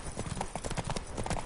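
Horse hooves beat in a rapid steady gallop in The Witcher 3, close and continuous over a short stretch.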